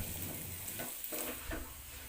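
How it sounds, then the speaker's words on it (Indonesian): Sliced tempe frying in hot oil in a wok, a steady bright sizzle and crackle running continuously at close range, with faint stirring scrapes and no voices. "Kita goreng tempe hingga berubah warna menjadi kuning keemasan"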